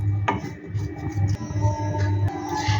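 Potatoes being stirred in a cooking pot for aloo dum just after water is added, giving close scraping and knocking strokes in a steady rhythm over a low hum.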